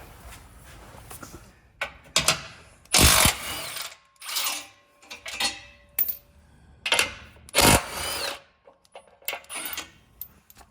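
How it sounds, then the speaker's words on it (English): Ratchet wrench with an 18mm socket working on a Jeep Wrangler JL skid plate bolt, sharp metallic clicks and clanks in irregular bursts, up close with quiet gaps between. "I'll be using an 18mm socket"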